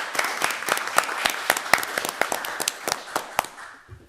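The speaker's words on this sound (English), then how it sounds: "let's give her applause" People clap at a town Board of Selectmen meeting to welcome the new town nurse: a few distinct, sharp hand claps ring out in an irregular rhythm over a small room's murmur, then stop near the end.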